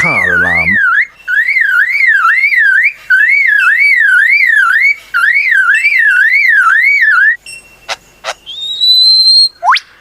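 Lyrebird imitating a car alarm with loud, close, rapidly wavering siren-like whistles repeated in long bursts, ending with a few sharp clicks and rising whistles.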